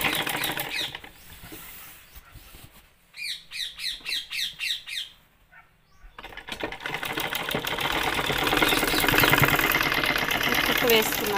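A sewing machine stitches a dress, running fast and steady in a long, dense whir after a brief pause and a run of short rhythmic pulses.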